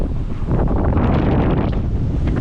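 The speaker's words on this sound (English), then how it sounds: "Super windy as well." Strong wind buffeting the microphone at Coloane, Macau's southernmost point, a loud, continuous rumbling roar with gusty surges and no voices.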